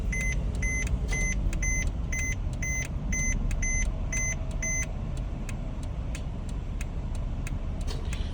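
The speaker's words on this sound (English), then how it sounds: "You can turn the ignition. We can start the car." A Mercedes-Benz GLK, 2007–2014 model, starts after new key programming: a run of evenly spaced electronic chimes sounds over the engine's steady low idle, then the chimes stop while the motor keeps running.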